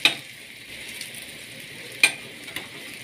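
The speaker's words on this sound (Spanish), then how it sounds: "Y vamos a sofreír." Sofrito for a Dominican eggplant stew sautéing in a pan: a continuous close sizzle with a few sharp stirring clinks and scrapes at the start, midway and near the end.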